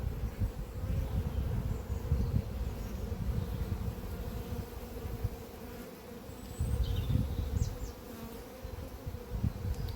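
Honeybees and drones buzz around an open hive frame in an apiary. The low droning hum is dense and continuous, close and fairly quiet, and swells in places.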